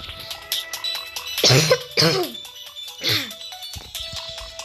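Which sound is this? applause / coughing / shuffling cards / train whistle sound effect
coughing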